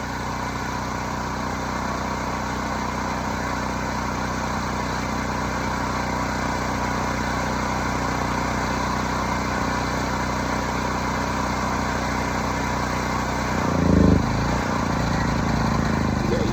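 A Honeywell 7500 generator's engine runs steadily with a loud, even mechanical drone, and a brief bump in the sound comes near the end.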